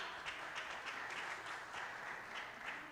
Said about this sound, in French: On applaudit chaleureusement.